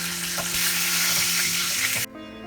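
Pointed gourd (parwal) pieces frying in oil with turmeric, giving a steady, loud crackling sizzle that cuts off abruptly near the end, leaving a faint low hum.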